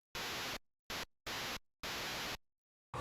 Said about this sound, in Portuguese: Esse canal permite gerar sons de ruído branco, que podem ser utilizados para criar percussão e outros efeitos sonoros.